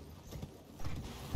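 Horse hooves clip-clop in a quick, muffled rhythm in the video game Elden Ring, a short burst of steps over dense, rumbling game noise with no talk.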